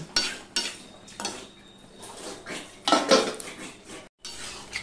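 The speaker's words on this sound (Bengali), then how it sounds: "এবার ঢাকা তুলে একটু ঘেঁটে দিলাম" A pot lid lifted and vegetable labra curry stirred, with metallic clanks and scrapes of a spoon against the pot in bursts, close by, over a faint sizzle.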